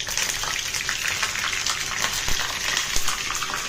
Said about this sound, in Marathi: मोहरी तडतडली की याच्यामध्ये मी कढीपत्ता टाकते।